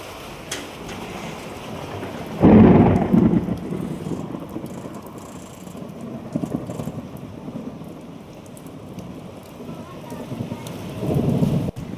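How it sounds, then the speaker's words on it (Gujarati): Rain falls steadily in a thunderstorm while a loud rumble of thunder rolls in early and fades, followed by another swell near the end. "બાકી ચારે બાજુ ઉપર ગાજે."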